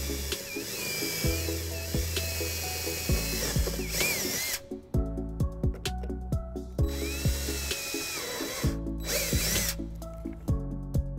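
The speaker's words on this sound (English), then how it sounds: "And then we're going to drill a couple holes here, drop some screws down and bolt it down." A power drill bores holes to mount a trailer wiring bracket on a 2017 Dodge Grand Caravan, with two long whining runs that change pitch under load, each broken by short bursts and pauses.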